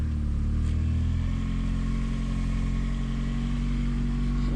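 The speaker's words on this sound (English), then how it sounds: "Sounds like belt noises to me." A 1991 Honda Prelude Si engine runs at a steady idle with a continuous low hum and a faint whine from the belts, loud and near, with no talking.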